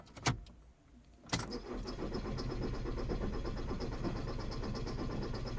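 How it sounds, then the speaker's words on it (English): A VW Passat TDI diesel engine cranks briefly and catches, then settles into a steady, clattering idle heard close up. "So we can try to start engine now."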